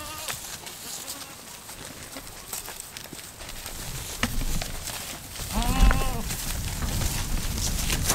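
Goats in a goat barn let out a single wavering bleat near the end, rising over a background of rustling and movement at feeding time.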